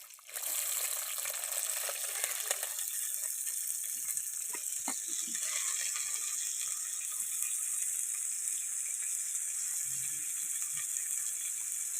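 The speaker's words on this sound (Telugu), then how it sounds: "ఆయిల్ అయితే కాగిందండి. దాన్ని ఉల్లిపాయలు కరివేపాకు పచ్చిమిర్చి అయితే వేసుకుంటున్నాను ఫస్ట్" Onions, curry leaves and green chillies sizzle in hot oil in a pan, a steady hissing fry that runs throughout, with faint clicks and stirring noises underneath.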